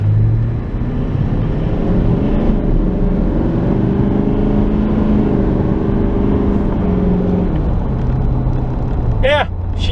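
A 2016 Chevrolet Silverado HD with a Duramax diesel engine accelerates, its low engine rumble rising steadily in pitch from inside the cab while someone talks over it.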